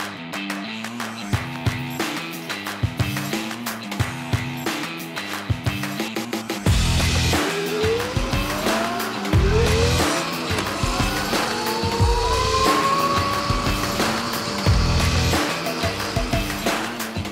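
A homemade electric bike out on the road gives a steady, loud ride noise throughout, with a motor whine that rises and falls in pitch as it speeds up and slows down.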